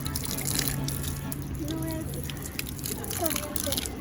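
Steady shower water running inside a camper van, a constant close hiss and patter of spray filling the whole clip, with faint voices underneath.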